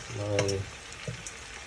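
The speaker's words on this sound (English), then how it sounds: "Just gonna put my prawns in, trying to get all the seasoning out" Prawns hit a hot pan seasoned with all-purpose seasoning, ginger and mixed herbs, giving a brief near sizzle and fry burst that fades to a soft crackle.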